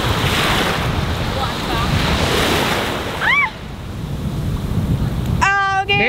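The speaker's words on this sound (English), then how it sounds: "I'm in the Atlantic Ocean." Atlantic Ocean surf at a beach, a steady broadband wash of breaking waves with wind noise over the microphone, plus brief high voices or calls near the middle and end.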